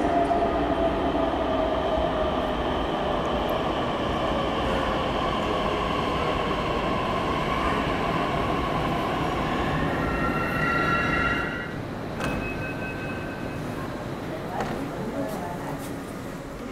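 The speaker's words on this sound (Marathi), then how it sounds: "आपली मेट्रो रामवाडीला जाणारी लगेचच 2 मिनिटात आली आहे" A Pune Metro train on the Ruby Hall–Ramwadi line arrives at the platform with a steady, loud rolling rumble and faint whining tones, easing and quieting near the end, while a voice talks over it.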